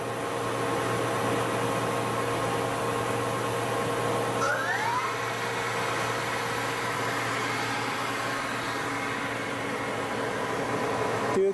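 A KURAKI KV-1000 machine running in high gear at 1000 RPM, a steady, smooth mechanical hum with a faint high whine throughout, even and quiet, with no voices.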